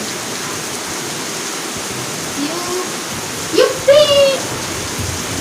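Steady hiss of monsoon rain fills the clip, with a brief excited voice calling out near the end.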